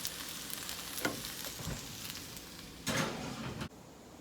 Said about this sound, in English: This is frying okra out of my garden that was already froze